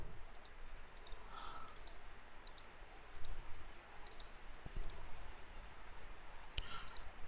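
Mouse clicks while navigating ERP software: a few faint, sparse, sharp clicks scattered over quiet room hiss.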